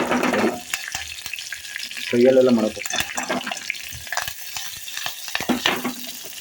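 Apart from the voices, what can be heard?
tempering spices sizzling in hot oil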